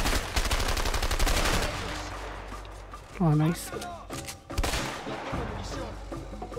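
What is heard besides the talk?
gunfire from shooting in the video game A Way Out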